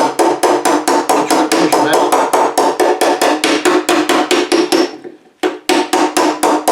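Rapid, steady hammer blows ring out on the rusty lower passenger-side fender of a 1963 Chevrolet C10, loud and close, with a brief pause before the strikes resume; a voice murmurs faintly.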